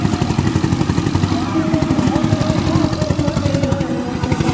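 A tractor engine stuck in a village runs loud and close, with a steady pulsing chug and clatter that holds for the whole stretch and never fades.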